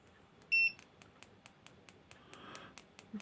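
Owon XDM1041 bench multimeter giving a short, clear continuity beep as its probes touch, followed by faint clicking taps of the probes in a quiet room.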